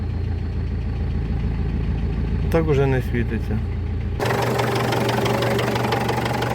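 A Ford Ranger diesel engine idles around 900–1000 rpm with a low steady knocking rumble; a person speaks briefly over it partway through.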